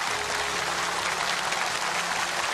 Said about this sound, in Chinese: 我们一起鼓掌，一起向周警官致敬